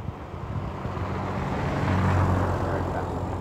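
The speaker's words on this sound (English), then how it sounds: "Here comes a car. I can hear her." A car passing an FPV drone on a road, a steady broadband engine and tyre rumble that swells slightly as it goes by, heard alongside the drone's own noise and radio hiss.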